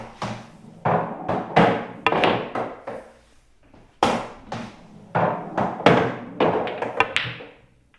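Pool balls lined up along the cushion and shot in turn during bank shot practice, a steady series of sharp wooden clacks and thuds, several per second in bursts, close and loud, with no talking.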